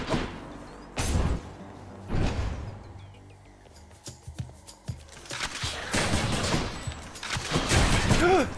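Gunfire from the Rail weapon in the video game Hades comes in sharp, loud bursts of rapid shots among game effects and impacts, near and punchy with no talking.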